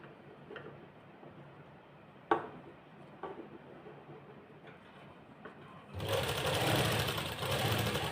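Sewing machine putting a double line of stitching on a garment sleeve: a few soft ticks and clicks first, then a loud, close, steady mechanical whirr that fills the last two seconds.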